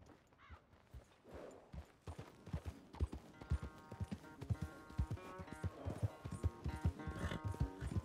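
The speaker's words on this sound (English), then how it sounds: "Good horse." Horse hooves in the video game Red Dead Redemption 2 clip-clop in a steady walking rhythm, close and fairly loud, over background music.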